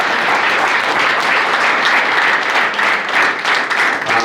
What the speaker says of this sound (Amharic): እስኪ ሞቅ ያለ ጭብጨባ።